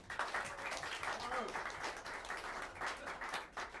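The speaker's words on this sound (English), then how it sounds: "Give a warm round of applause" Applause from a jazz club crowd during a live sextet set, a dense faint patter of many hands clapping steadily for several seconds with some voices mixed in.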